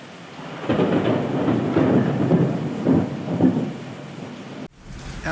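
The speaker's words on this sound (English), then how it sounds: "The wind was howling and the rain hit against the windows" Storm effect with steady rain against windows and deep rolling thunder swelling and fading over several seconds, loud and close, cut off abruptly near the end with no voices.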